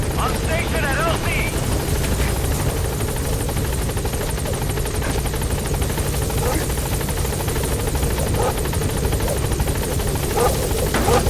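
Helicopter Pequod from a video game hovering at its landing zone, a steady loud rotor thrum and whine throughout, with a voice talking over it.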